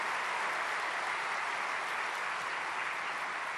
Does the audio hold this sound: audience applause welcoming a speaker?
yes